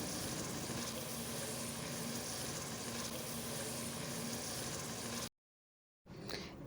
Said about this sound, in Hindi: इसके अंदर 2 से 3 हरी मिर्च डाल देंगे चॉप की हुई और 1/4 कप हरी प्याज। इनको भी 1-2 मिनट के लिए फ्राई कर लेंगे।